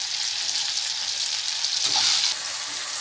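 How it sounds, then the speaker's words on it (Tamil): Masala sizzling in hot oil in a pan while making Palakkad sardine fish curry, a steady close hiss with a brief swell near the middle, no speech over it. "ஒரு 2 நிமிஷம் அப்படியே இந்த எண்ணெயிலே இந்த மசாலா வதங்கட்டும்."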